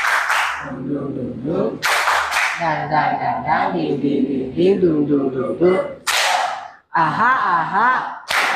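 Children in a classroom clap in short, sharp group bursts, each separated by chanted and spoken voices, as a lesson closes.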